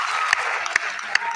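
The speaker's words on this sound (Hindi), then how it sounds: "अरे इनके लिए ताली होनी चाहिए यार" Audience applause in a hall during a motivational speech, a steady wash of clapping from a crowd with a few sharper claps standing out, no talk over it.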